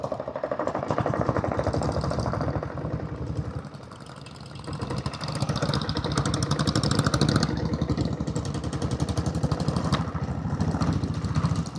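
A 1999 Royal Enfield Taurus diesel motorcycle runs with a rapid, steady chugging knock, close and loud, dipping briefly in level before settling back to an even diesel beat.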